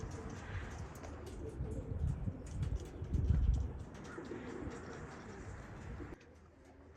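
Racing pigeons coo at a loft on race day, their low, throaty calls swelling and overlapping close by, with soft rustling and a few light taps mixed in.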